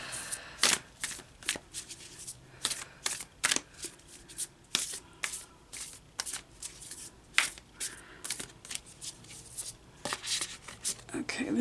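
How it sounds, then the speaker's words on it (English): Large oracle cards are shuffled by hand, giving a string of quick papery riffles and slaps in uneven bursts. The sound is close and soft, with quiet room tone between the bursts. "They're quite large cards, so let me give it a shuffle here."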